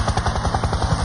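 A helicopter in flight, its rotor producing a rapid, steady whop-whop chop over a continuous turbine whine, loud and close.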